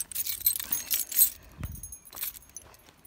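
Car keys jangle outdoors, a bright metallic rattling that comes and goes in several close shakes over a few seconds.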